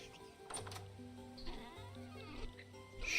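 Sheep bleat in the modded video game Vintage Story, several drawn-out wavering bleats from more than one animal, fairly close and moderately loud, over a quiet background with faint ticking.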